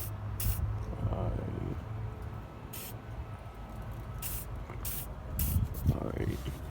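Aerosol can sprayed on a squeaky Dodge Challenger R/T: several short hissing bursts of spray, close and loud, over low background rumble and some muffled handling noise.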